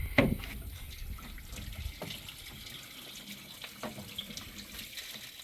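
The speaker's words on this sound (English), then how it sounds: "the radiator has been flushed now. A lot of rubbish came out of it." Water gushes and splashes steadily while a radiator is flushed out on a 1977 Land Rover 109, with a louder burst at the start and then a continuous faint running flow with a few small spatters.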